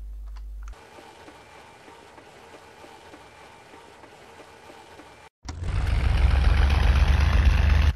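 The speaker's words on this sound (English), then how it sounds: "you press the key to start the engine" Aircraft engine in IL-2 Cliffs of Dover, a WWII flight sim with No 85 Squadron, running at a steady low idle, then cutting out briefly before catching and roaring louder and fuller, alone without talk.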